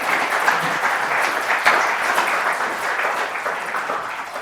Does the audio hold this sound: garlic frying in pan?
no